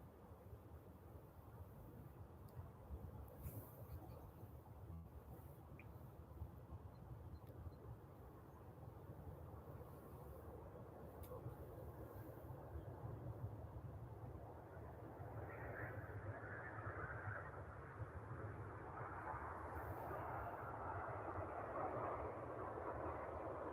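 A Jet2 airliner arrives at Manchester Airport, its engine roar far off and faint, slowly building into a louder broadband rush over about twenty seconds.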